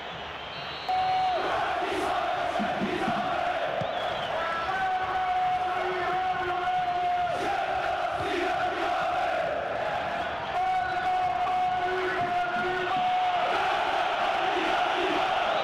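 A stadium crowd in the PES 2013 football video game roars and chants throughout, with bursts of whistling and shouting, loud and continuous, while a commentator talks over it.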